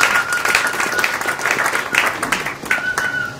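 A church congregation at a funeral service applauds to acclaim the Lord, with steady, dense clapping from a crowd throughout and some faint voices mixed in.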